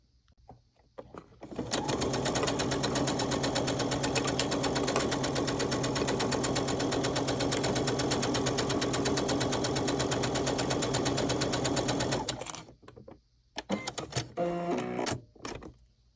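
A sewing machine stitches fabric pieces for a Christmas tree ornament, a steady fast whirring rattle that runs about ten seconds at close range before stopping, followed by a few short handling clicks and brief bursts.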